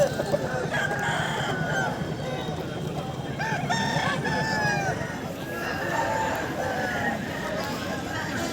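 A large native rooster crows repeatedly at a busy poultry market in Balarampur, Purulia, with clucking fowl and steady crowd babble filling the background.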